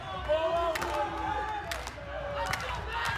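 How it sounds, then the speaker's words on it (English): The William & Mary team's rhythmic vault clap at the men's NCAA gymnastics ECAC Championships: sharp handclaps spaced apart, sounding under a busy arena crowd murmur. "We'll hear the William & Mary vault clap running in the background"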